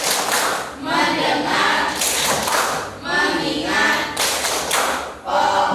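Classroom students perform the rhythmic 'tepuk fokus' clap chant, with patterned group claps and thumps in repeated bursts mixed with chanted voices.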